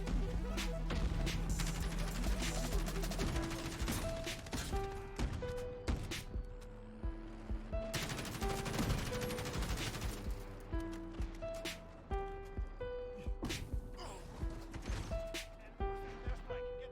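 Gunfire in a shooter video game, sustained bursts of automatic fire and impacts mixed with game music tones and explosions, loud and busy throughout.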